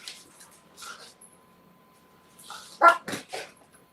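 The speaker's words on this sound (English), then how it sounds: "Of course, my dogs are going to start wrestling now." Dogs wrestling give short close barks and yips, a few soft whimpers first, then a louder cluster of barks near the end, with no talk.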